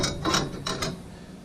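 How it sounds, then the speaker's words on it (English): A clamp is ratcheted tight onto a roll cage gusset, giving a few quick, close mechanical clicks and grinding turns in short bursts. "I just kind of place it in there, and then I'm going to clamp it"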